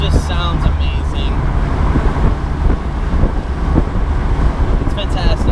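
A BMW 325i convertible drives along with a steady, loud engine drone mixed with road and wind noise, heard from the cabin, with short bits of talking at the beginning and end.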